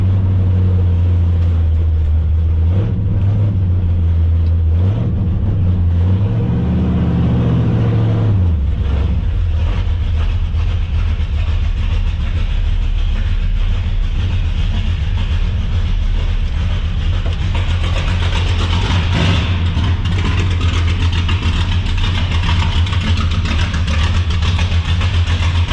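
A car engine rumbles loudly and steadily, deep and close, with a low wavering drone early on that smooths out into a constant heavy idle for the rest.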